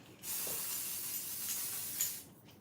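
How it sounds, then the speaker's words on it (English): One long, smooth spritz of shimmer powder from a spray bottle, a soft airy hiss lasting about two seconds before cutting off, heard close up. "I'm going to give it a quick spritz"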